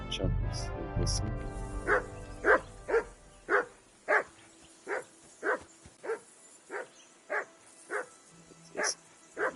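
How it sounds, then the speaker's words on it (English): A dog barks in the video game Kingdom Come: Deliverance 2, about a dozen evenly spaced, fairly loud barks in a steady rhythm that follow a brief burst of other game sounds at the start. "Whistle at that mutt of yours to stop barking."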